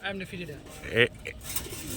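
Pigeons at a market stall selling fancy breeds coo softly in brief low calls, partly under a man's nearby speech.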